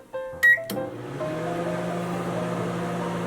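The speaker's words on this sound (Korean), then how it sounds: "권장 시간만큼 7분 한번 돌려줘 볼게요" An old microwave oven with a turntable that no longer turns beeps a few times at its control panel, then starts with a click and settles into a steady, close, droning hum that continues to the end.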